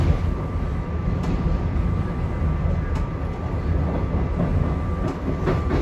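A SEPTA regional rail train runs along the tracks with a loud, steady interior rumble and a faint tonal whine, and occasional light clicks mark the wheels crossing rail joints.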